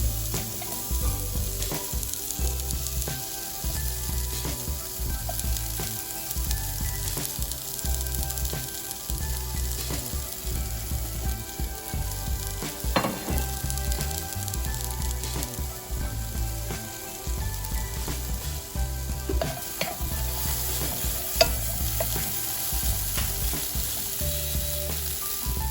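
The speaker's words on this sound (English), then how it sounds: "Just a very light saute." Radish lightly sautéing in a pan for a vegan, gluten-free ramen, giving a steady close sizzle and frying crackle throughout with no talk.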